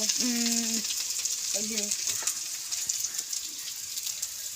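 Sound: potatoes sautéed with tempering spices, frying

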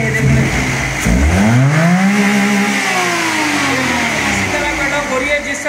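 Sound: Daihatsu Coury engine revving to fuel cut-off

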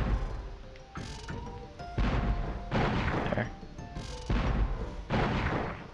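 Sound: cannon firing in the video game Spyro 2: Ripto's Rage

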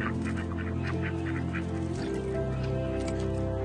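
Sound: ducks quacking at a park pond

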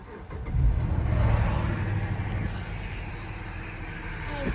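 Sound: Chrysler 300 Limited engine starting up

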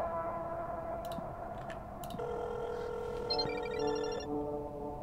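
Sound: phone ringtone in Chilla's Art Parasocial video game

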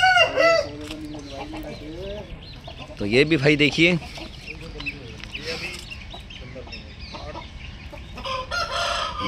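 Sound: rooster crowing and clucking, home breed

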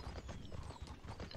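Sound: horse hooves in video game Mortal Online

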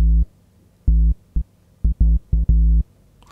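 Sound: deep sub bass synth from Logic Pro Alchemy

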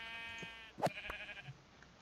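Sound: sheep bleating in Minecraft video game

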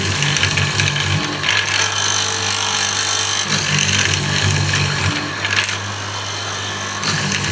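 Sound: hollow chisel morticer cutting into wood

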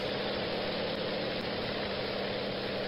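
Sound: Lockheed L-049 Constellation engines running, exhaust sound

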